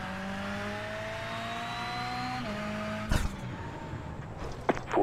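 A car engine in a racing video game revs up as the throttle opens, a steady rising drone with a sudden sharp burst near the end.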